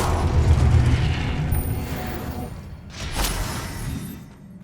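A blasting-spell explosion in the wizarding game Hogwarts Legacy erupts as a deep, rumbling boom that swells and fades, followed by a second sharper burst, with no talk over it.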